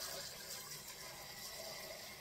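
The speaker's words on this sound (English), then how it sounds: "Put that hot water in there." Hot water pours steadily into a pot of chitterlings, a faint continuous hissing splash with no talk.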